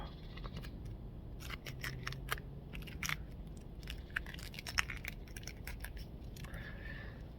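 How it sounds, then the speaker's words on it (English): Duct tape peeled off a Bic lighter and twisted up, a close series of sharp crinkling, crackling rasps with brief tearing bursts over a low background. "just peel off some of this duct tape. And if I take my duct tape and then I twist it up"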